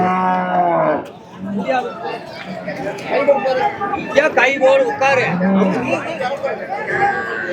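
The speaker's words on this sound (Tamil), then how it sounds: "இவ்வளோ மாடுகள் இருக்கு" Kangeyam-breed cattle and bull calves low and moo amid a busy crowd at a Saturday livestock market in Kundadam, Tiruppur district, with lots of overlapping chatter from people nearby throughout.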